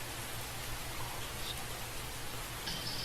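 Steady rain storm in a fantasy video game world, a dense even hiss of rainfall with a low rumbling undertone running throughout, no voices.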